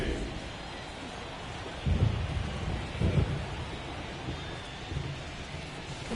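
Heavy rain and rumbling thunder in the baseball video game MLB The Show 24 during an Atlanta Braves game: a steady, dense downpour hiss with two deep thunder booms rolling through partway in, no voices.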